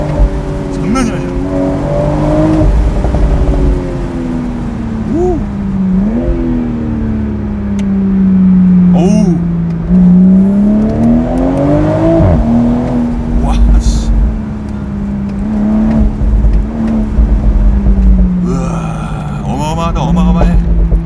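A BMW Z4 M40i sports car, driven with its top down in winter, growls from its engine and exhaust as the revs climb and fall through the gears, heard close with people talking over it.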